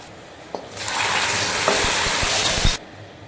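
A hot tempering of fried shallots, dried chilli and curry leaves is poured into a pumpkin and pea curry, setting off a loud, sudden burst of hissing sizzle that holds for about two seconds and then cuts off abruptly.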